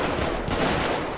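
Automatic gunfire in the game GTA, a dense rapid burst of shots filling the whole moment, loud and continuous with no talk over it.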